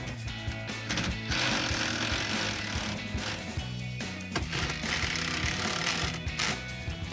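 Ratchet with a 15mm socket tightening the rear seat bolts in a 2015-2023 Mustang Fastback, rapid loud clicking in bursts separated by short pauses, close up, with no talking.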